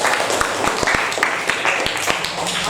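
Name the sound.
class applause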